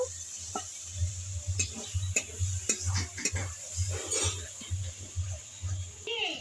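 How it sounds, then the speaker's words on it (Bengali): Cashew paste loosened with a splash of water being stirred in a pan, a spoon scraping and clinking in irregular strokes over a low steady hum, with soft sizzling underneath. "আর দেবো কাজু বাদাম বাটা দিয়ে সামান্য একটু জল দিয়ে নাড়াচাড়া করে নেব"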